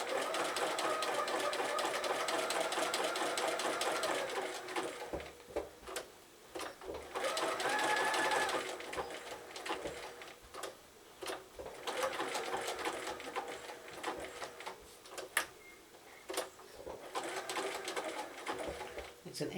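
A sewing machine runs zigzag stitches along the curved edge of an appliqué for birthday bunting, its quiet motor whirring in short bursts with brief pauses between them while a voice talks over it.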